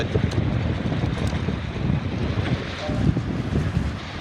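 Steady wind of about 9-10 knots rushing past a Sabot dinghy at a regatta, a constant buffeting roar against the microphone with water sloshing beneath, loud and unbroken for the whole stretch.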